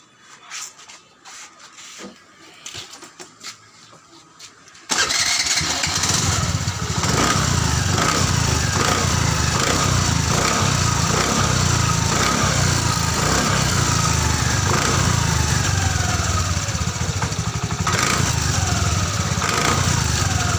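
A Honda Activa 5G scooter with a loose wheel nut starts up after a few quiet handling noises, then idles loudly and steadily close by with a rough, buzzing vibration rattle running throughout.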